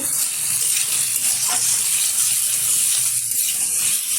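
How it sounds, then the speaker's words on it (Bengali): Moringa drumstick pieces stirred and fried in hot oil, a steady close sizzle with faint spatters throughout and no talking. "বেশ কিছুক্ষণ নেড়ে চেড়ে নিলাম তেলের সাথে সজনে ডাঁটাটা"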